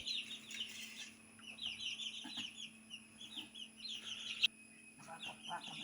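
A hen and her chicks clucking and cheeping as their cage is opened, a busy run of high peeps and soft clucks nearby, with one sharp knock partway through.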